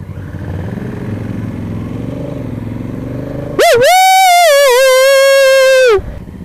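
A 2016 Honda Africa Twin motorcycle engine, heard close and loud, snaps into a sharp rev that climbs, wavers and holds for about two seconds before dropping away, following a steady lower idle rumble.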